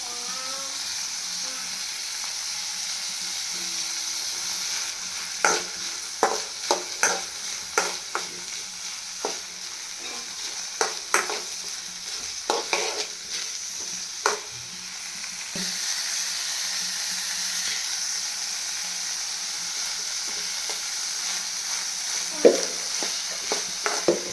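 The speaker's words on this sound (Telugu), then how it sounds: "ఆయిల్ వేడి అయిన తర్వాత కార్న్ అయితే వేసుకోవాలి" Corn kernels frying in hot oil seasoned with salt and chilli, a steady hiss of sizzling broken by intermittent scraping and stirring clicks throughout, with no voices.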